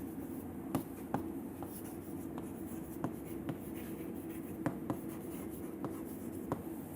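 A lecturer writes an equation during a lecture on material selection for a heat exchanger, producing short scratchy strokes and taps of chalk or marker at an irregular rhythm over a steady room hum.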